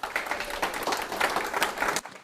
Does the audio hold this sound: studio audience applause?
yes